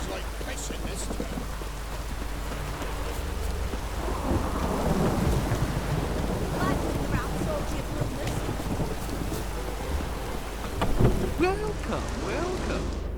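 Rain pours through a town in The Witcher 3, a continuous hiss of falling water with rolling thunder underneath, while a voice talks over the storm.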